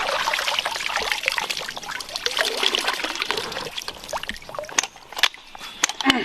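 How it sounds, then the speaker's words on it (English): Water gurgles, trickles and sloshes into the stock of a Chinese-made copy of the Type 56 semi-automatic rifle held underwater, a busy close-up bubbling that thins into scattered drips and pops toward the end. "Ooh, the stock's filling up with water."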